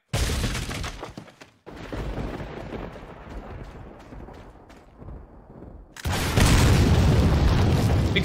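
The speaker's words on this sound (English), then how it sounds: "Explode the barrels in dedication to PewDiePie" Barrels blow up in the video game Resident Evil 4, giving loud booming blasts with crackling debris and a heavy explosion that rumbles on at the end.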